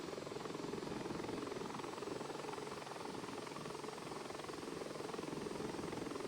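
A Bell 412 helicopter in a flight simulator game settles into a hover, its rotor and engine giving a steady, even drone that holds at a constant level throughout, with no voices.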